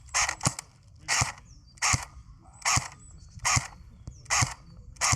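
A budget airsoft replica fires single shots through a chronograph, eight sharp snapping cracks at a regular pace of roughly one every two-thirds of a second, close and crisp against quiet background.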